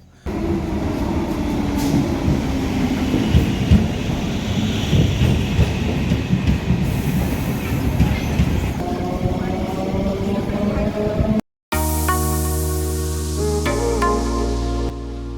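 A local train rumbles and clatters loudly past at close range at Aranghata station, West Bengal, then after a brief cut a long horn blares with bright, layered tones.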